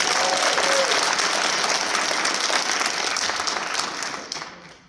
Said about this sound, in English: let's give that brother a nice round of applause.